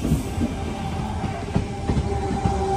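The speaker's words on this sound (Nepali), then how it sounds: "आए ट्रेन आए" A train pulls into a station, a steady close rumble of wagons with rhythmic clicks and clanks over the rails and no talking.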